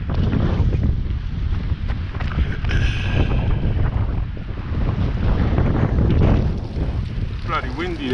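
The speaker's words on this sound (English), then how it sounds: "Kind of windy today." Strong outdoor wind roars continuously across the microphone on a foggy, dusty day, a loud, buffeting rush with gusts swelling and easing throughout.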